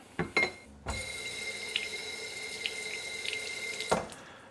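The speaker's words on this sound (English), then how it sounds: "And now the cup rinser will work." A cup rinser built into a workstation kitchen sink sprays water steadily for about three seconds, a continuous hiss with a few splashy ticks, bracketed by short clicks and bursts at the start and end.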